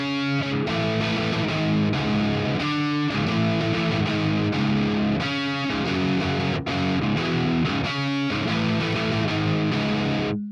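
Distorted electric guitar played through a JCM800 amp model and a Marshall 4x12 cabinet, a crunchy driven tone with chugging chords and riffs, loud and continuous throughout.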